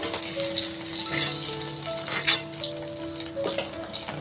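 Paneer cheese pieces frying in hot oil in a pan while being stirred, a steady close sizzle with faint tonal hum in the background and a few small knocks; no voices.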